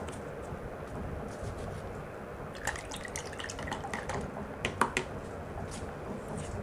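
Kilaxyl Gold fungicide, containing metalaxyl and mancozeb, is stirred into water with small splashes and drips that grow busier midway, near and fairly quiet.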